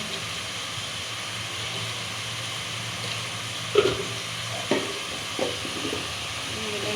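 Spices fry in a pan for a spiny gourd (kakrol) curry, giving a steady low sizzle broken by three or four spoon knocks and scrapes from stirring, close by.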